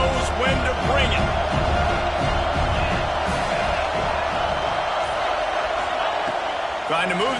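A stadium crowd at a college football game roars in a steady, dense wash of cheering throughout, with a commentator talking over it.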